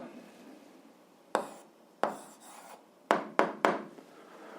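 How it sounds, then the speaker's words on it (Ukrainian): Pen writing an algebra answer by hand on paper, a few short scratchy strokes with pauses between, then a quick cluster of three strokes, close and quiet. "записуємо відповідь, пишемо відповідь"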